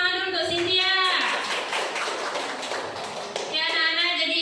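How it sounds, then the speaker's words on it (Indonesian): Students clapping for a classmate in a classroom during a maths lesson, a short burst of handclaps in the middle with a voice speaking before and after. "Berikan tepuk tangan dulu untuk Cynthia."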